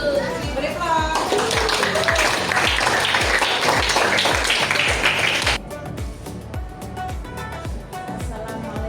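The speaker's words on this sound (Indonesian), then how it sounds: "Beri aplaus." An audience applauds at an Indonesian teachers' coaching session, with dense clapping that swells and then thins into scattered claps as a voice begins speaking.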